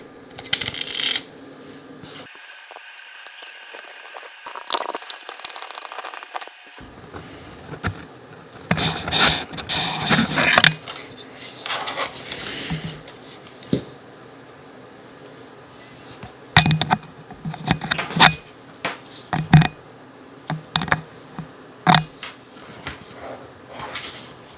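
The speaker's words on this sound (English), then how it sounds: "Now we put the last two screws back on to secure the motor" Screws are driven in to secure the motor of a Miele CVA 6401 coffee machine, giving sharp metallic clicks and short scraping bursts scattered irregularly, near and fairly loud, with quieter gaps between.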